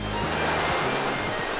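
Ocean waves crashing on rocks on the Jeju coast, heard as a steady, loud wash of surf with wind noise throughout.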